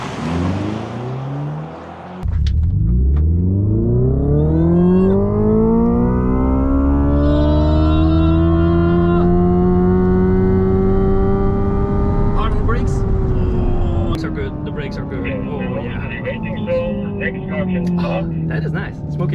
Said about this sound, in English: It's time to do some launch controls